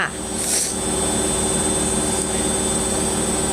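A washing machine runs with a steady mechanical hum and a repeating churning pulse, close and continuous, with a brief higher swish near the start.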